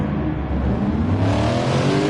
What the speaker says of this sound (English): Revs are up waiting for the lights.